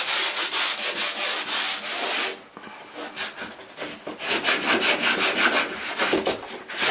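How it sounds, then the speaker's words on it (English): Sanding on drywall being prepared after wallpaper removal, a loud rhythmic scraping rasp of repeated back-and-forth strokes, briefly pausing partway through before resuming, close and alone. "I'm going to sand this down."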